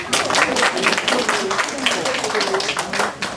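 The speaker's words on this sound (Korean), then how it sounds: "박수." An audience claps at a Korean senior center end-of-term presentation. Brisk, dense clapping runs throughout, with voices mixed in.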